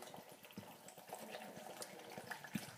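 A bottle of water poured into a banana smoothie, a quiet continuous splashing gush with faint bubbling, soft and close.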